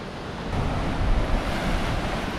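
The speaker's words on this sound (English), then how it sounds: "It is so windy right now." Strong wind roars and buffets the microphone while surf crashes steadily nearby on the Indonesian coast, a loud continuous rush with no voices.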